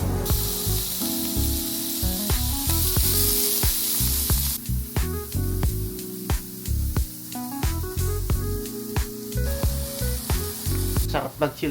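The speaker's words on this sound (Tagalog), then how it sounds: "Mag-grill-grill ka lang, mga babs, kahit sa patio lang" Food sizzling on a hot grill out on a patio: a loud, steady, spraying hiss that runs throughout, with tonal background sounds underneath.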